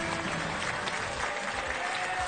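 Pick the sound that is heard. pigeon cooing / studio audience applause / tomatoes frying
studio audience applause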